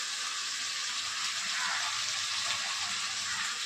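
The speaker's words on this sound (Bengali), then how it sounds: "চিকেনটা একটুখানি হালকা করে ভেজে নিচ্ছি" Chicken pieces frying lightly in oil in a pan give off a steady, close hiss and sizzle with fine crackles throughout, with no talking.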